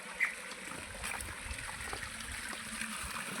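Water flows steadily in a stream running through a village, a faint, continuous trickle and babble heard outdoors with no talking over it.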